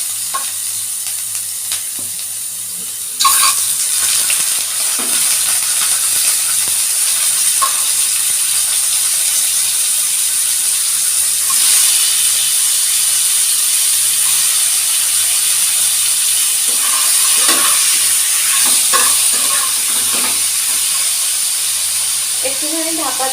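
Bombay duck fish pieces dropped into hot mustard oil burst into a loud, steady sizzle that holds for the rest of the stretch, with occasional clicks and scrapes of a utensil.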